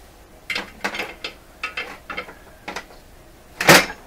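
Small metal clicks and taps from a washer being fitted onto a part of a Crosley 43FB farm radio during repair, several light separate contacts ending in one brighter, sharper clink, close and quiet.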